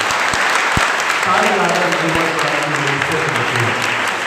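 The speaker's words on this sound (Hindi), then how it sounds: "आप सब एक बार जोरदार ताली मेरे प्रभु यीशु मसीह के लिए" A church congregation at a New Year sermon in Mungeli claps loudly and steadily in praise of Jesus Christ, a dense continuous wash of applause while a voice speaks over it at close range.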